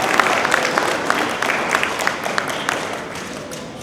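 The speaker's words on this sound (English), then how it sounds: "another round of applause for that fantastic scene" An audience claps for students after a school scene performance, a dense, continuous round of applause with many overlapping hand claps that gradually thins toward the end.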